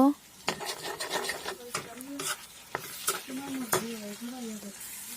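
Egg bhurji is stirred with a spatula in a pan of hot oil, giving a run of scraping and rubbing strokes over a steady, close-up sizzle of frying.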